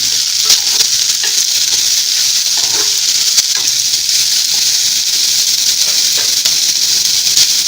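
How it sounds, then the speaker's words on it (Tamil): Onions sauté in hot oil for potato bonda, a steady, loud, close sizzle and hiss that runs unbroken throughout with faint stirring scrapes. "அடுத்து வெங்காயம் போட்டு நல்லா வதக்கிக்கலாம்."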